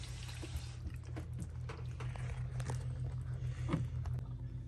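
Water runs steadily from a shower faucet inside an RV during system sanitizing. A constant close rushing hiss, with faint knocks and drips over it.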